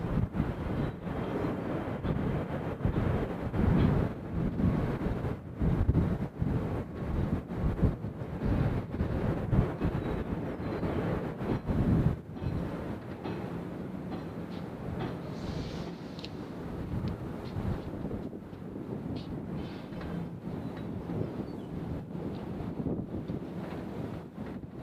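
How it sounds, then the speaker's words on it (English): Wind blowing at Nashville International Airport, a steady low buffeting rumble against the microphone throughout, with gusts slightly stronger in the first half. "I mean, that wind's blowing"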